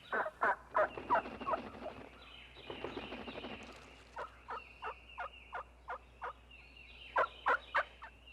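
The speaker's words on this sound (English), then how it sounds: "This hen's clucking is one of 8 basic calls" A wild turkey hen clucking in a flock, sharp repeated clucks in short rhythmic bursts at close range, with a brief stretch of softer overlapping calls midway.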